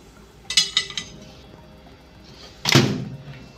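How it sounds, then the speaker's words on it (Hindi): Rolls are placed into a preheated Panasonic microwave oven, with a few quick clinks of dishware followed by a louder clunk of the door or tray, set against a quiet room. "pre heated Panasonic microwave oven में रखेंगे इसे"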